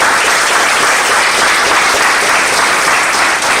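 Audience applause at a large training event in Orissa, a loud, dense and continuous roar of clapping from many people lasting a few seconds, with no voices over it.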